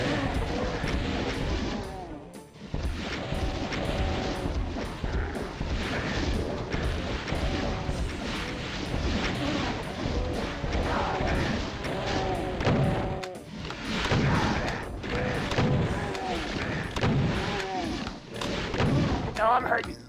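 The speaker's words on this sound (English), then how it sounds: "Here's a good spot for some rockets." Rapid rocket explosions and weapon fire in a chaotic Doom mod video game, dense booming blasts following one another almost without pause, loud and continuous throughout, with harmonic in-game sound effects layered over them.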